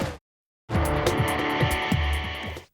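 A BMW 2002 race car roars past during a race in New Zealand after a brief quiet gap, its engine loud and sustained with rhythmic tyre and gear pulses before fading out.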